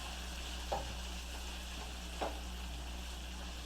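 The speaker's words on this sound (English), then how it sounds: "we're going to go in with our sausages, our peppers, and our onions" Sausages, peppers and onions frying in bacon fat for a Creole shrimp and grits dish give a quiet, steady sizzle, broken twice by brief soft clinks of stirring.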